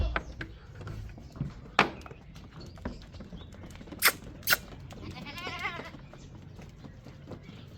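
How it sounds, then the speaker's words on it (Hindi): Goats bleat a few times while being fed wheat grains on a farm on a winter morning, with scattered clatter and rustling from the animals close by. "हमारे अब्बू जान बकरियों को यहाँ पे गंदम के दाने दे रहे हैं।"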